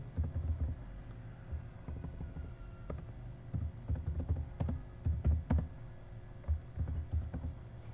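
Typing an SQL query on a computer keyboard, soft irregular key taps in clusters with brief pauses, close but fairly quiet, no talk.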